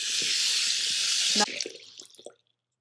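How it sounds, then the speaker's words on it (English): Lukewarm water runs steadily into a sink while a vintage Rushton teddy bear is rinsed, a loud, even gush for over a second that cuts off, followed by a few drips and splashes before silence. "let's just give him a quick bath in some lukewarm water"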